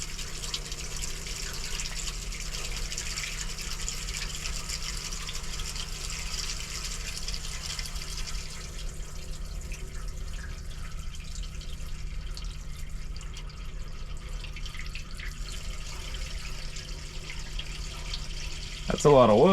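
Engine oil drains from an excavator into an oil pan on wheels, a steady close pouring and splashing of liquid running continuously under a faint background hum.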